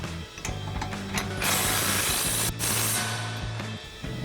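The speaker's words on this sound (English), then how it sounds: "we're going to need our 18mm socket on our impact" An impact wrench with an 18mm socket drives flag nuts on a 2005-2010 Mustang front strut install, a loud, close, rattling mechanical burst with a brief pause midway.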